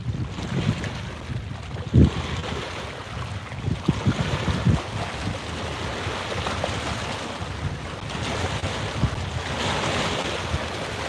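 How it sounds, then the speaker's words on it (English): On Prineville Reservoir, wind drives big waves that slosh and slap against the shore or a boat, with gusty wind buffeting the microphone and a few sharper splashes standing out over the constant rushing. "them winds blowing some big old waves over here"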